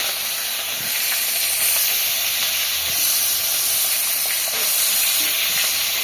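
Tangra fish sizzling in hot oil in a kadai, a loud, steady hissing crackle that swells and eases over several seconds, with no talking.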